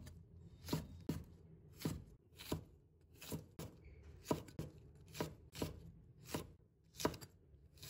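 A kitchen knife slices green chili peppers on a cutting board in a quick series of crisp, evenly spaced chops, close and clear against a quiet background, with no talking.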